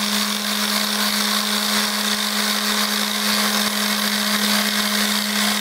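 Several orbital sanders run at once on balsa wood CO2 dragster bodies in a classroom workshop, a loud, steady, unbroken whir with a constant hum and no pauses.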